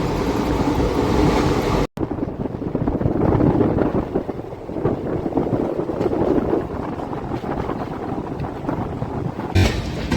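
Haldia–Asansol Superfast Express pulls into Kharagpur station with a continuous loud rumble and rush of wind buffeting the microphone, heard from on board.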